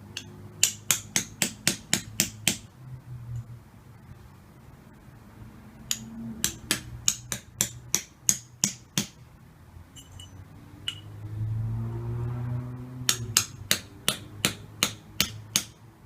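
A hammer strikes copper pipes, driving them into backyard ground: bursts of sharp metallic clanks in steady rapid runs, close and loud, with pauses between volleys and a low background rumble.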